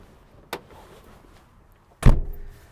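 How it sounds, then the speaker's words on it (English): Two car door sounds from a 1950s Riley 4/Seventy-Two saloon: a faint click, then a solid, deep thunk as the door shuts close by in a quiet setting. "I just want to bring your attention to that door thunk"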